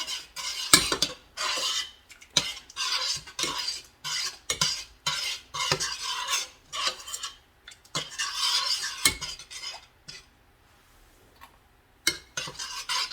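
Brown sugar being stirred into a mixture in an Instant Pot: repeated scraping, rasping strokes of a utensil against the metal pot in uneven bursts with short pauses, up close and without talk.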